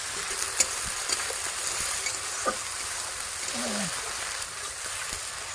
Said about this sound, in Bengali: এবারে ধীরে ধীরে আস্তে আস্তে মশলাটা ভাজবো